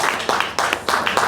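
Audience applause at a launch event in Conakry, Guinea, for a women's ecological transition program: loud, dense clapping from a nearby crowd, brief and continuous with rhythmic swells.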